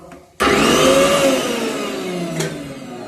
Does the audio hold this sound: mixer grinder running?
yes